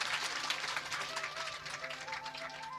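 At a Shrimad Bhagavat Katha religious gathering, an audience claps to welcome a speaker. The dense, steady applause continues throughout over a faint tonal hum.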